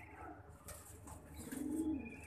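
Low, soft pigeon cooing rolls along steadily, swelling slightly louder toward the end, with faint rustling in the background.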